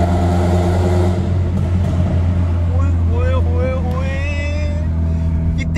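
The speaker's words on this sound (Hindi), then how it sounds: "गाड़ी खींच रहा हूँ, याद रखियेगा।" Car engine pulling hard and accelerating through the Firdaus Market underpass, a loud steady drone with a rising whine echoing in the enclosed space, continuous throughout with no talk.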